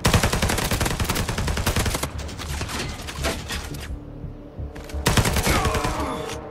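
Rapid automatic gunfire from the video game Ashfall, dense bursts of loud close shots in a steady rattling stream, easing briefly mid-clip before another heavy volley.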